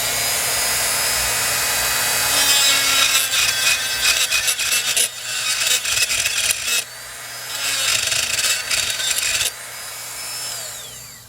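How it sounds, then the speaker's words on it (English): A Dremel rotary tool with a cutting bit grinds off a leftover tab, a steady close high-pitched whine with rasping contact that surges and drops in several passes, alone without talk. "And so I do that with this Dremel cutting bit here."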